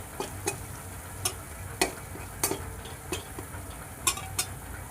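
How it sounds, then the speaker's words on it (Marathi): Whole spices being stirred and dry-roasted in a pan over a low gas flame for samosa filling, with soft scraping strokes and light clicks of a spoon against the pan over a faint steady sizzle. "कमी गॅसवर भाजायचं आहे, नाहीतर हे मसाले जळू शकतात। अशा पद्धतीने 1 ते 2 मिनिटं आपण फिरवून घेऊया।"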